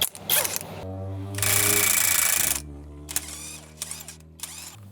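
Pneumatic impact wrench with a 46mm socket breaking loose the axle nut on a Ram ProMaster wheel hub, a loud sustained buzzing hammer burst after shorter bursts, with quieter rattling and tool noise around it.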